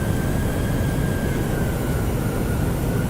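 Airliner engines roaring at takeoff power in Microsoft Flight Simulator 2020 on a flight out of Norway, a loud steady broadband roar with a faint high whine holding throughout.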